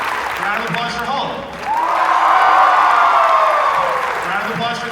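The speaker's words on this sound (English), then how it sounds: "Round of applause for Hulk." Audience applause at a Wizard World Philadelphia 2016 convention panel, a steady wash of clapping that swells after a brief dip and holds loud and close for several seconds before easing slightly.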